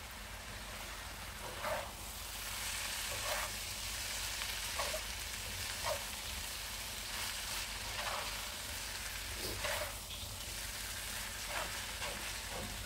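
Fried Maggi instant noodles with sweet soy sauce being stirred in a pan: a constant soft sizzle broken by repeated scraping and clinking strokes about every second or two, quiet and close, with no talk.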